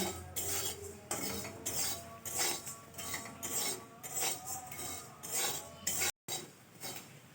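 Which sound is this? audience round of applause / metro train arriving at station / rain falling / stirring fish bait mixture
stirring fish bait mixture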